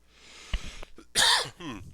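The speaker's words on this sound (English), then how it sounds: "I'm going to cough." A single harsh cough bursts out near the microphone, with a few quieter throat sounds and breaths around it.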